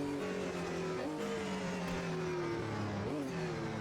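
A race car engine in the racing simulator Automobilista 2, a steady droning tone with slight pitch rises and dips as the throttle changes, moderately distant and quiet, with no talk.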